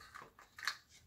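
Scissors snip through paper during a Stamperia mixed-media album craft project, giving two or three quiet, short cuts close by.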